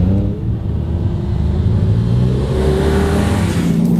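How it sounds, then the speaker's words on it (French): Ferrari 308 rally car at the Tour Auto at Brive airport, a loud continuous engine rumble with rising revs, close and steady throughout, without speech. "ma Ferrari préférée, ma Madeleine de Proust à moi, la Ferrari 308, qui roulait en rallye"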